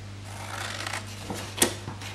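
Scissors cutting through card stock along score lines make a few short, crisp snips and rustles at close range, with one sharper cut standing out near the end and no talking.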